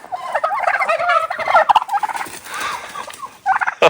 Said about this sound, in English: Y'all always worry about Kelsey harassing the birds.